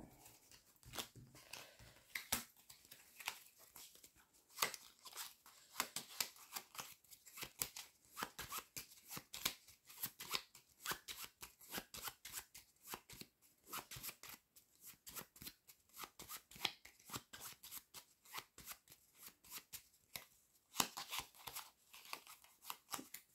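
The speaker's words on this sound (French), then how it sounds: "je vais remélanger son paquet" A deck of cards for a solo board game being shuffled over and over, a long run of quick riffling and snapping bursts at close range, steady and fairly quiet with no talking.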